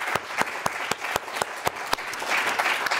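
An audience at a talk applauds its three experts with a dense patter of clapping, punctuated by sharper, regularly spaced claps that build toward the end.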